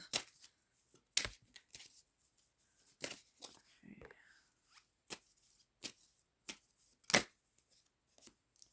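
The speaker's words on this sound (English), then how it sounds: "these cards are just shuffling all jumbled" Quiet, irregular papery riffling and snapping of cards being shuffled, with soft sharp flicks scattered over several seconds and occasional low murmurs.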